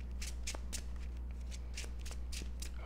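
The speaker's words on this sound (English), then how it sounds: "Shuffle the rest of our discard pile up here." A discard pile of Marvel Champions cards is shuffled by hand, a series of quick crisp riffling bursts in an uneven rhythm, close and clear over a low steady hum.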